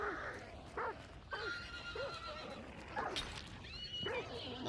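A horse in a hunting video game whinnies several times with shrill rising neighs, mixed with clip-clop hooves and constant background game noise.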